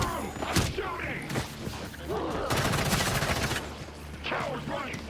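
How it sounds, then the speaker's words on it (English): Bursts of rapid gunfire from thugs in Gotham Knights crack through a busy combat mix, with heavy thumps and clattering, loud and close, while voices shout in the background. "Make room! I'm shooting!"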